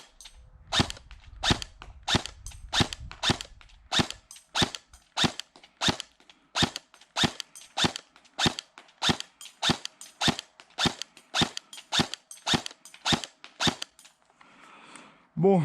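Umarex HK416D Gen 2 airsoft electric rifle running a 7.4 V LiPo battery, firing semi-auto: about twenty sharp, evenly spaced shots in a steady rhythm, loud and close, with no talk over them.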